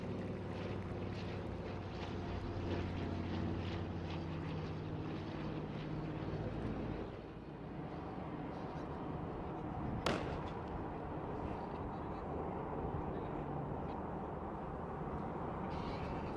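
A formation of vintage Douglas Dakota transport aircraft flies past during an Indian Air Force Day flypast at an air force station, giving a steady broad propeller-engine rumble with wind noise that shifts and thins as the formation moves away.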